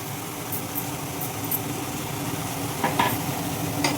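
Bottle gourd mustard curry stirred in a pan gives a soft, continuous sizzle with a few light scraping clicks of the spoon against the pan, close and fairly quiet.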